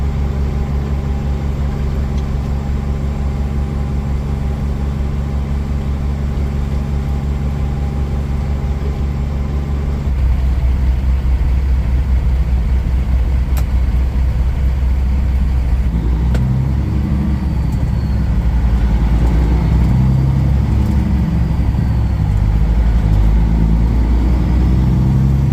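A Kenworth W900 truck's engine rumbles heavily and close as it rolls slowly along a small town main street, a steady deep drone that shifts and grows slightly louder partway through, with no talking.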